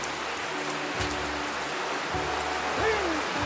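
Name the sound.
rain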